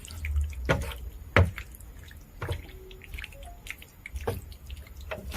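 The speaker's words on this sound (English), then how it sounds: "I'm going to add a little bit of water." Water is added to cooked pasta in a pan, heard as a few scattered splashes and drips, moderately close, over a quiet kitchen background.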